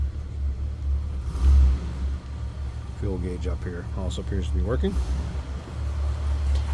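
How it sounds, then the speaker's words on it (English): A 1978 Cadillac Eldorado Biarritz's 425 V8 idles smoothly with a steady, low, quiet rumble heard from inside the car while someone talks over it. "425 running pretty darn smooth."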